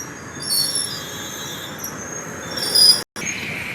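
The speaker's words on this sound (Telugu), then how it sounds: "సో గోదావరి స్టేషన్ నుంచి ట్రైన్ కదిలింది." A train pulling out of Godavari station gives thin, high wheel squeals over a low rolling rumble, heard close and steady with a brief cut near the end and no voices.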